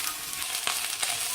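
Meat for lasagne sizzles and fries in a pan, a soft steady crackle with a couple of brief stirring scrapes, heard alone.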